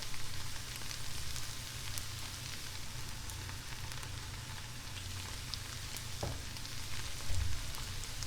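Chopped mushrooms in a three-mushroom blend sizzle in a frying pan, a steady close hiss of frying with faint crackles and a soft stirring scrape near the end.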